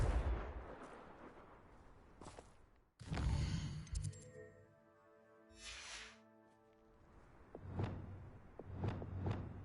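A Confringo blasting spell goes off in Hogwarts Legacy as a sharp, heavy blast with a ringing, echoing tail, followed by several more booming spell impacts spread across the scene, with no one speaking.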